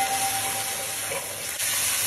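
Mushrooms for mushroom do pyaza sizzle in a pan while being stirred, a steady close hissing fry with only a brief dip, no talking.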